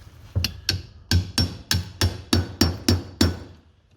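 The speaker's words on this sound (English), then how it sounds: "Get a hammer." A hammer taps a QTech packing kit into place over a socket, about nine sharp, evenly spaced metallic knocks close by, fading slightly toward the end, with no talk.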